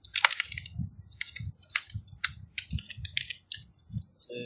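Typing code for an Arduino servo project on a computer keyboard, close irregular key clacks with soft thumps, about a dozen strokes in uneven rhythm, no talking.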